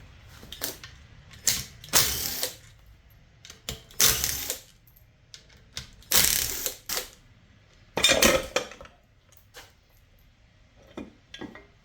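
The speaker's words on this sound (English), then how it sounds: "so we'll just take out this ring of bolts." Bolts being removed one after another from the starter cover of a Kawasaki X2 watercraft, with several loud bursts of tool rattling and ratcheting separated by quieter pauses and small metallic clinks.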